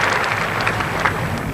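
Cricket crowd at Old Trafford during the 1981 Ashes Test, a broad, steady wash of cheering and applause from fans around the ground, distant and continuous with no break.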